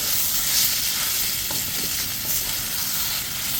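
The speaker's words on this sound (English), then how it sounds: "we'll cook this for about 3 to 5 minutes, stirring it around, kind of stir frying it" Chengdu chicken cooking in fermented bean paste, stirred and stir-fried in a pan: a steady close hiss and sizzle with soft scraping stirs, no talk.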